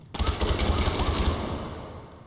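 Rapid bursts of gunfire in the video game Far Cry 4 crackle in a fast, evenly spaced volley, loud and close, then trail off into a fading echo.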